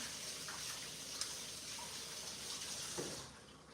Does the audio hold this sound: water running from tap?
yes